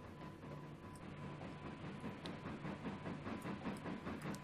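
Another train passing in the railway simulator game Trainz: A New Era, a steady rumbling roll with rhythmic rail clicks and hiss, moderately distant and fairly constant.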